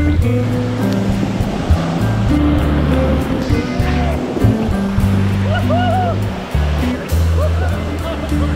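Steady roar of afternoon surf washing onto a beach in South Luzon, Philippines, with voices talking faintly underneath and a low engine-like rumble mixed in.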